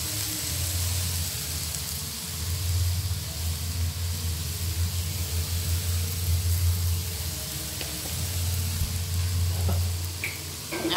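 Paneer cubes and sugar frying in a pan for a vegetarian roll, giving a steady, continuous sizzle with soft crackle at close range and no talking.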